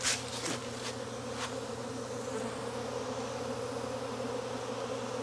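A honey bee swarm pouring out of an observation hive in Jacksonville, Florida, makes a steady, dense buzzing drone that holds loud and close the whole time, with a few sharper passes near the start.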